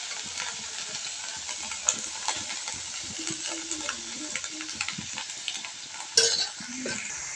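Leafy greens and tomatoes fry in a little oil with a soft, steady sizzle, punctuated by light scrapes and taps of a stirring spoon and one louder clatter near the end.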